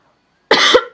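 A single sharp cough breaks out of silence, close and loud, followed by the start of a second one.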